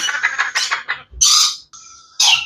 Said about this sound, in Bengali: একই জাতের অ্যামাজন ইয়েলো ক্রাউন